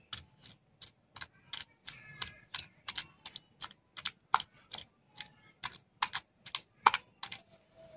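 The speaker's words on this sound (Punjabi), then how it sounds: "ਇਹਨਾਂ ਨੂੰ ਥੋੜਾ ਜਿਹਾ ਕੁੱਟ ਲੈਂਦੇ ਹਾਂ ਕੁੰਡੇ ਦੇ ਵਿੱਚ ਹੀ" Peeled kachalu (taro root) pounded in a kunda mortar, giving a steady series of sharp, evenly spaced knocks, about two or three per second, close and fairly crisp with no talking.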